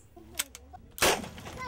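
Sharp, loud gunshot from a handmade firearm being test-fired in Danao, Cebu, a single crack with a brief echoing tail following a few faint clicks and knocks.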